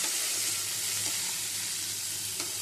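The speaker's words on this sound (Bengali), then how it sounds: "পেঁয়াজটা আবার ভেজে নেব।" Onion tempering frying in hot oil for a fish dish, an even, continuous sizzling hiss heard up close at low volume, with no voices.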